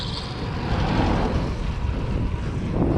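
Steady, loud roar of headwind buffeting a microphone while riding a gravel bike on asphalt in a mountain bike marathon, a dense rumbling rush that barely lets up from start to finish.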